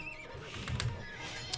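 A horse neighs in Age of Empires II during a 4v4 match on the Steppe map, a short whinny over game ambience with soft clip-clop.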